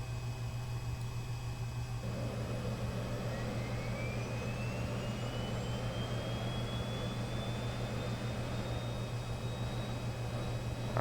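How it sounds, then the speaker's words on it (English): Left turboprop engine of an Embraer 110 starting up in the X-Plane 10 flight simulator, a steady engine hum with a whine that rises smoothly in pitch over several seconds, close and continuous, no talk. "let's go ahead and start the left engine first"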